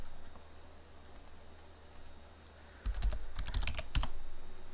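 Password being typed on a computer keyboard during a Linux install: a few scattered clicks early, then a quick burst of close, crisp keystrokes over a low steady hum.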